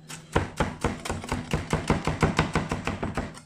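Sharp knife rapidly chopping bell pepper on a board for a summer salad, a fast, even run of about fourteen crisp, close knocks with no talking.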